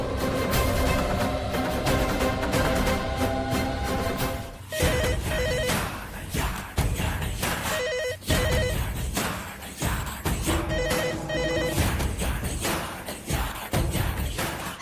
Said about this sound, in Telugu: మా ఇంటి ల్యాండ్ లైన్ కి కాల్ చేయండి